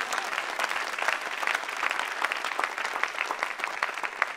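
A church congregation applauding during a pastor's sermon, with dense, steady clapping from many hands filling the room evenly, with no break from start to finish.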